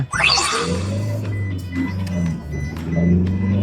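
A Toyota Hilux Revo pickup engine in power mode revs hard under heavy throttle, a loud close drone rising quickly at the start and then holding a strong, steady engine hum.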